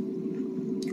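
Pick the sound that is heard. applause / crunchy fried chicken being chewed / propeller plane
crunchy fried chicken being chewed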